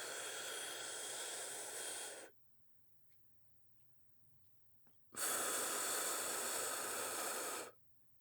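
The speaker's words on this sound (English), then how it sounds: "We're going to breathe in 4 phases. In, hold, out, hold." A person does box breathing during a singing warm-up, with a long steady inhale through the nose, a silent hold, then a loud sustained exhale. Both breaths are close and prominent, with no talking.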